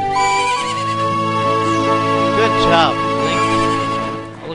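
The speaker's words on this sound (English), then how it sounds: "And the horse will come to me." The horse Epona whinnies in The Legend of Zelda: Ocarina of Time over sustained video game music, with a brief spoken remark near the start.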